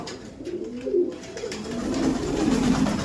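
Imported Giribaj pigeons coo at close range in soft, low, rolling calls that repeat and overlap, rising slightly louder toward the end against a quiet background.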